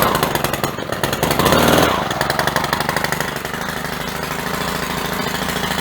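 A Stihl weed eater with a new pull cord, primed and choked, fires up and runs with a loud, rapid buzzing two-stroke drone that briefly revs higher before settling into steady idle, close up.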